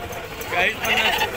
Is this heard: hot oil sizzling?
no